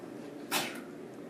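A single short sneeze in a classroom during a math lesson, one brief burst over a quiet room tone, moderately close and alone without talk.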